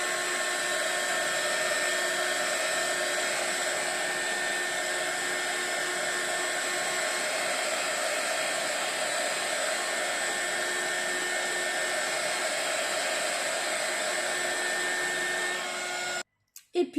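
A heat gun blows hot air to dry a handmade shaker card, a steady high whirring hiss that runs evenly for about sixteen seconds before switching off, followed by a couple of brief handling knocks.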